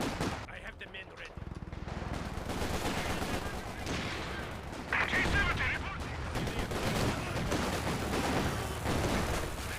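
Machine gun fire in the video game Company of Heroes 2, dense continuous bursts of gunfire and heavier artillery-like thuds in a loud battle din, with a voice talking over it.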